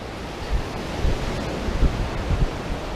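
Waves rolling through a revamped outdoor wave pool at a Torbay splash park, a steady broadband wash with soft surges every half second or so, fairly close, without voices.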